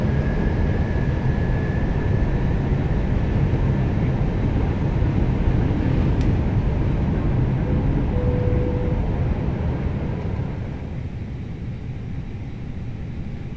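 Airbus A321neo airliner in a flight simulator on approach with flaps and landing gear down, a steady loud broadband engine and airflow roar with a faint tone, easing slightly near the end.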